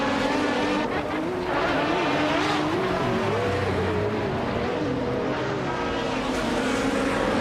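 A 2003 Alzen Porsche 996 Turbo race car in a video game snarls at the race start, with several engines revving and shifting in rising and falling tones, loud and steady throughout.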